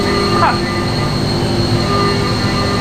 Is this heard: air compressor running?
yes